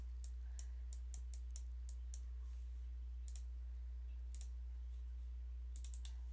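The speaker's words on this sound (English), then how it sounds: "And I'm sure Isaias is probably typing this out for me as well." Faint, scattered clicks of typing on a computer keyboard come in short bursts with pauses between, over a steady low electrical hum and no talk.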